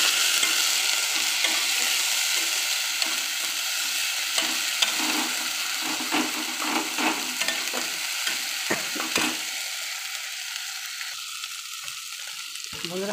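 Masala for banana flower curry frying on a medium gas flame while being stirred, a steady close sizzle with scraping spoon strokes throughout that softens toward the end.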